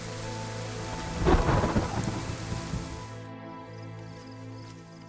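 Rain falls steadily in the survival game DayZ while a rolling thunderclap swells up, then fades to a softer patter, with no talking over it.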